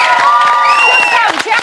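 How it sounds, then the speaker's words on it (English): Studio audience on a Big Brother UK 2014 show cheering and applauding, loud crowd whoops and shouts with high voices rising over continuous clapping. "Everyone give yourselves a round of applause."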